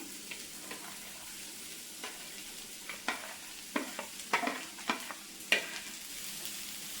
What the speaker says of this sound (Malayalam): വെണ്ടയ്ക്ക അരിഞ്ഞു വെച്ചിരിക്കുന്നത് ഇട്ട് കൊടുക്കാം